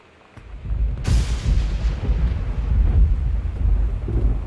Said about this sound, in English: that thunder's beautiful. Oh yeah, it's a very well done sound effect